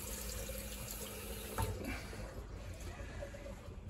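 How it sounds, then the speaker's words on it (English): Hot water runs from a tap into a sink inside a narrowboat, a steady, faint splashing hiss that continues throughout with no voices. "that's hot water. We have got hot water."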